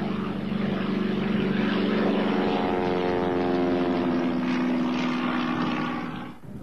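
A light general-aviation training airplane on a solo flight drones steadily with a loud, even propeller engine note, sustained for several seconds before easing off slightly at the end.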